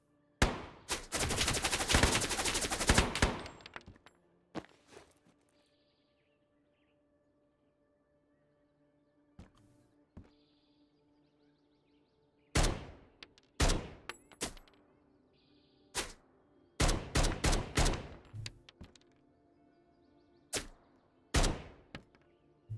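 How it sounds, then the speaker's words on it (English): Gunfire in the video game Road to Vostok, with an enemy shooting through a tree: a long sustained burst of loud automatic fire, then a series of sharp single and clustered shots spread over the remaining stretch, no talk. "He's shooting me through the tree"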